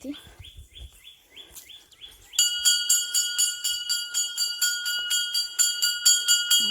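Soft bird chirps give way to a bright, metallic bell struck over and over in a fast, steady rhythm, loud and close.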